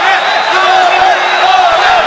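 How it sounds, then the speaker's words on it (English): Loud, steady crowd roar fills an MMA arena at an M-1 Challenge bout between Felipe Nsue and Talekh Nadzhafzade, with shouts and whoops rising out of the dense wall of noise. No one speaks clearly over it. "As the crowd roars"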